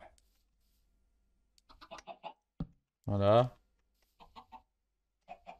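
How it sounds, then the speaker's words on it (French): In the Minecraft video game, a thrown chicken gives one short, clear cluck, set among sparse clicks and brief bits of a man's speech. "Ça, c'est ce qu'on appelle le lancer de poule."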